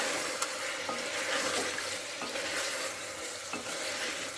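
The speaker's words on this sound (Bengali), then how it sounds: "এই মশলার সঙ্গে মাংসটা কষিয়ে নেবো দিয়ে একবার।" Meat sizzles and frying in a pan with ground coriander and cumin for a biryani, while a spoon stirs it in scraping sweeps over a steady, close crackle.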